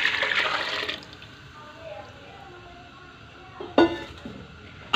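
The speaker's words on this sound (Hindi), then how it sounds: "अब जो हमारे पास यखनी है हमने तैयार की वो ऐड कर" Prepared chicken stock (yakhni) poured into a cooking pot of browned chicken for white chicken pulao, a steady splashing rush for about a second, then a quiet simmer and a sharp clatter near the end.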